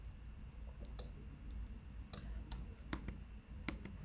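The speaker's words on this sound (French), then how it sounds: "si je clique comme ça" Several sharp computer mouse clicks at an irregular pace, close and quiet, over a low hum while editing text animation in Premiere Pro.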